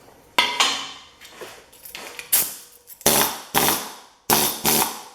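A Harbor Freight needle gun runs in short, loud bursts of metallic clattering, each burst fading off before the next, with brief pauses in between and no talking.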